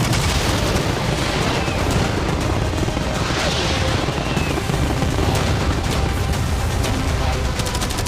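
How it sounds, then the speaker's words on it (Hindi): Cannons, fireworks, arrows and catapults fired together in a game battle, a dense nonstop roar of booms, blasts and gunfire-like cracks, loud and continuous throughout. "मैं चाहता हूँ कि तुम कैनन्स, फायरवर्क्स, एरोज, कैटापल्ट्स सब कुछ एक साथ फायर करो।"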